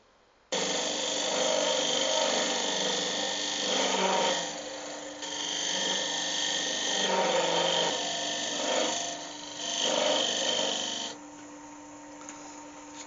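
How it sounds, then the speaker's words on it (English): A steady, loud whirring Forstner bit drills into a turned wooden box top for about ten seconds, its grinding tone rising and dipping as pressure changes. "I'm going to use that Forstner bit, just drill a hole in the top of it"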